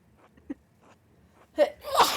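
A single sharp sneeze near the end, loud and close, after faint breathy sounds in a quiet room during a Pentiment game stream.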